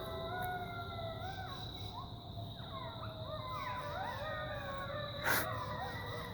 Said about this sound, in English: That's a song by a couple of coy dogs who howl at the alpha.